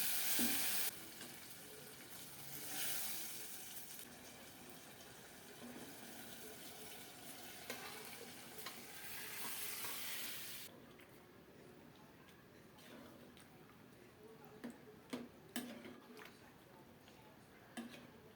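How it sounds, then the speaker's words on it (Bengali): Dried red chilies and whole cumin seeds crackle and sizzle in hot mustard oil as a tempering for bottle gourd curry, a steady broadband hiss that fades and roughens near the end with a few sharper pops, no talk. "সরিষার তেলে শুকনো মরিচ দিলাম গোটা জিরা দিলাম ফোড়নটা সুন্দর মতো হয়ে গেছে"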